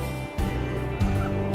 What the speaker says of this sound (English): She's one of our bantam chickens.